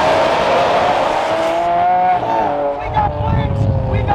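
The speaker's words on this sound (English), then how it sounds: "All I can hear is the flame tune on the GTR." Nissan GT-R with a flame-tune exhaust, a loud, close engine drone with a wavering pitch that rises and falls, with a rougher, crackling burst near the end.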